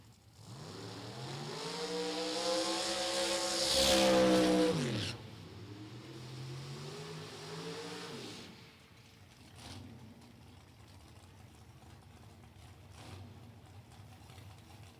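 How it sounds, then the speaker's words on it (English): Drag race cars, Biondo's Lumina and Hochstetler's Dodge Stratus with a big-inch Mopar engine, at Route 66 Raceway: a loud rising engine roar that peaks and cuts off, then a second revving surge, fading into distant track noise. "There's the Biondo Lumina and Hochstetler's Dodge Stratus."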